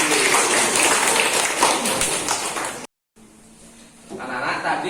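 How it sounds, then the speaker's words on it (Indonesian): A classroom of students in an Indonesian Islamic ethics lesson bursts into loud, sustained clapping, which cuts off briefly and then resumes more faintly, with some voices mixed in. "Tepuk tangan lagi."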